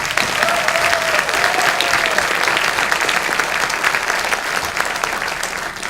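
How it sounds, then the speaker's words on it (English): An audience at a city's State of the City address applauds with a steady, dense wash of clapping that lasts the whole stretch and fades only slightly toward the end. "So this evening we have Sashari, please hold your applause until they're done."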